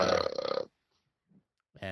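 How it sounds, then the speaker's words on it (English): A man lets out a loud, deep, guttural burp lasting over half a second, close to the microphone, followed by silence and the start of a voice. "The audio started working again for the burp"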